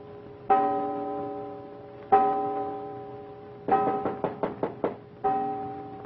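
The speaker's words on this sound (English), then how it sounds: "when that clock over there strikes 7, you hear him knock on that door" Chimes of a clock striking, each a ringing tonal stroke with a long decaying tail, followed by a quick burst of five sharp knocks on a door before another chime, all in a quiet room.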